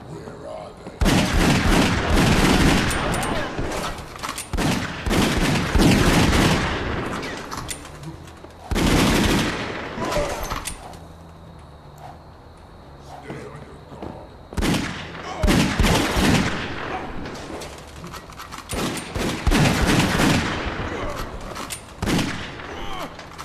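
Loud bursts of gunfire from the action shooter Dead Second, heavy rattling volleys and booming shots arriving in several separate waves with quieter gaps between them, no talking.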